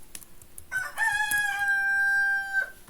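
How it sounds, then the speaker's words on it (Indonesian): A rooster crows once in the early morning, a long, loud cock-a-doodle-doo with a rising start and a sustained, strained tone, heard close with no talking. "ada video ini diambil dari pagi-pagi ya, jadi ada suara ayam"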